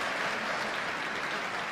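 Dense applause from a large audience of over a thousand at a debate, a steady wash of many hands clapping at constant loudness with no break.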